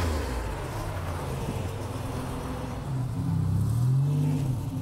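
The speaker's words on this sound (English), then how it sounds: "give it a little bit of gas so you can hear how nice the exhaust is" A 1987 Buick Grand National idles with a low exhaust rumble, then revs up in a rising, swelling burst near the end, close and fairly loud.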